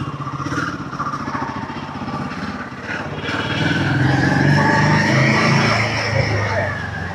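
A Royal Enfield Himalayan motorcycle rides slowly through traffic, its mid-pitched engine drone steady at first and then swelling louder as it moves along, with street noise around it.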